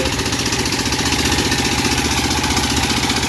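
A large Thai rice threshing machine, mounted on a tractor, runs with a steady close mechanical drone and rapid engine pulse, with no pauses.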